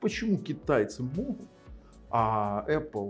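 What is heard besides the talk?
No distinct noise like a dog, phone or traffic.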